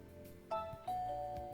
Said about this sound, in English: Was that the doorbell?